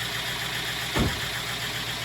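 A large junkyard Hemi V8 engine swapped into a 2005 Jeep Grand Cherokee idles steadily with an even, throbbing rumble, with one brief louder thump partway through.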